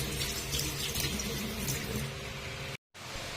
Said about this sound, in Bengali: তো চলো মাছগুলোকে ধুয়ে নিই